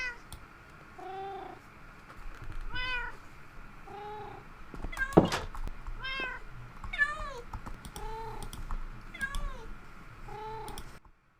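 Several cats in the video game Minecraft meow again and again at a fairly even pace, faint and mid-distance, with keyboard clicks and a sharp knock partway through.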